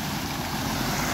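Fast-flowing rainwater stream in Jim Corbett Park, a steady, dense rushing roar close to the microphone with no pauses.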